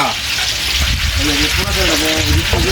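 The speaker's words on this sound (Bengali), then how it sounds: "এলাচ দারচিনি তেজপাতা আর হচ্ছে লং যে মশলাগুলো শুরুতে দেখতে পেয়েছি ওগুলোকে ধুয়ে নিয়ে তারপর এখানে তেলের ভিতরে দিয়ে দেওয়া হয়েছে" Whole cardamom, cinnamon sticks, bay leaves and cloves fry in a large pot of oil with a loud, continuous sizzle and crackle while someone talks over it.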